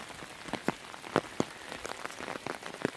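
Rain patters steadily, with scattered sharp drops tapping nearby against a soft, continuous wash of falling water.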